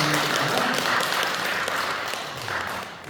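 Congregation at a Korean church Sunday service applauding together, a steady dense wash of many hands clapping at an even level throughout, with faint murmuring beneath.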